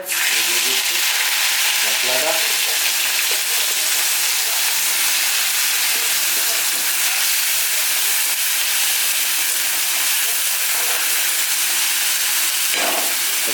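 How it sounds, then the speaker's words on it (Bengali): Chopped ginger, garlic and onion fry in hot oil in a pan, giving a steady, loud, dense sizzle and hiss throughout with no break, while a few faint clinks come through underneath. "আমি আদা রসুন পেঁয়াজ একসঙ্গে কুচিয়ে নিয়েছি ভালো করে এটা দিয়ে দেবো তেলের উপরে"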